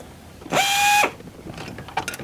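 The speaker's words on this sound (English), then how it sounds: "Grab the larger of the Allen wrenches they provide and just start tightening that down." A tool whirs steadily for about half a second while tightening a bolt on an Open Road 4WD bed rack on a Jeep Gladiator, followed by faint clicks and handling noises.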